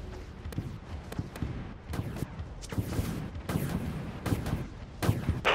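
Torpedoes launch from a ship in the game Dreadnought amid a string of sharp, explosive bursts and thuds, some close and loud, others softer, firing in an irregular rhythm.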